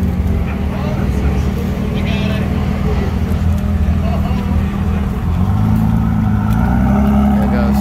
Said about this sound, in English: Something leaving now, a Ford GT here.